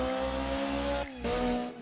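A racing car in the Assetto Corsa driving game holds a loud, steady engine drone that dips briefly mid-clip, then returns strongly, with no talking.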